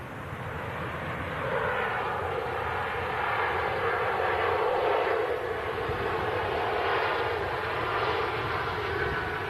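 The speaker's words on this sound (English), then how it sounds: "737 touching down" A Ryanair Boeing 737 jet touching down gives a sustained, fairly loud engine roar that builds slightly and holds steady throughout, with no talk.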